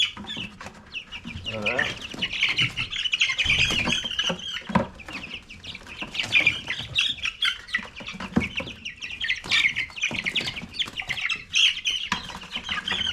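Meat chickens cluck and squawk while being handled, with wing flapping, under close conversational talk from the handlers.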